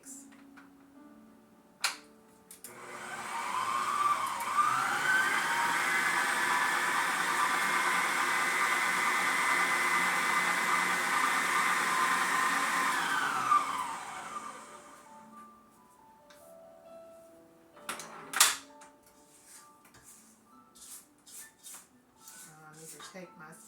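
An electric mixer beating vanilla extract and eggs for a lemon birthday cake, a steady whirring drone that runs for about eleven seconds and then cuts off, followed by clinks and handling noises.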